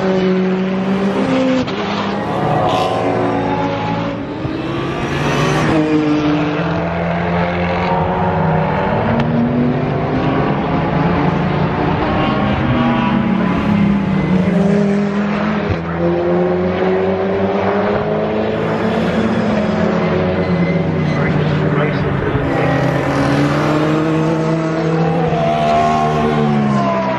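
Race cars in a Britcar night endurance race at Brands Hatch, engines roaring and revving continuously with rising and falling pitch as several cars accelerate, shift gears and pass close by, loud throughout with no voices.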